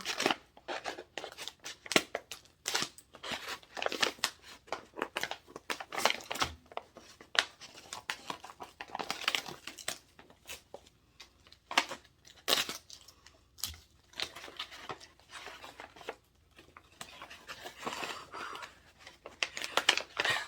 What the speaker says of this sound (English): These scissors are dull.